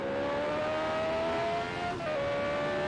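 Onboard engine note of a 1987 CART Indy race car at speed on track, a loud steady high-pitched drone with a brief dip and shift in pitch near the end, filling the whole clip with no talk.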